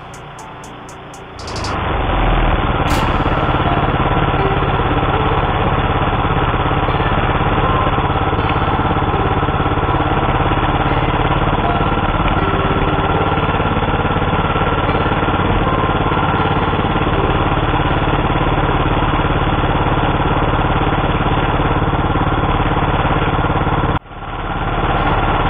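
DR field and brush mowers start up after a refuelling break and run loudly and continuously, a steady engine drone that cuts off sharply near the end.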